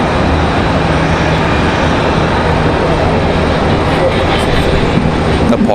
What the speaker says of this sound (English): Our next arrival is American Airlines 1878 coming in from SFO